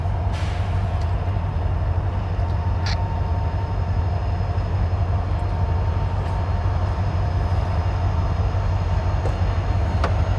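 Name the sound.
CSX freight train passing, northbound trash train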